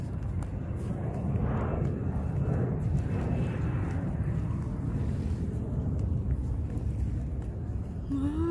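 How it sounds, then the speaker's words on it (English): Airplane passing overhead while walking by the bay in downtown San Diego at night, a steady broad engine roar that fills the whole stretch under wind buffeting on the microphone. "Airplane."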